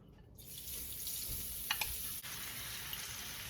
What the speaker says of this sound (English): Let's go ahead and start frying the fish.